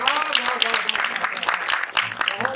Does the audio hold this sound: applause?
yes